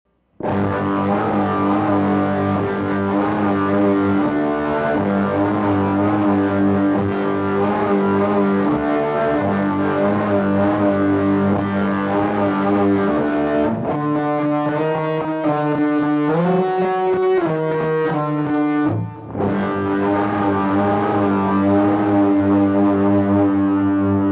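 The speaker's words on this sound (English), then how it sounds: "what I want to do is just demonstrate what the circuit does to a sine wave." A sine wave fed through a Kazan Booster fuzz pedal circuit gives a continuous buzzy, distorted drone rich in harmonics, with the tone shifting partway through and a brief dropout near the end.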